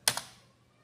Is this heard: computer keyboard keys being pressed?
yes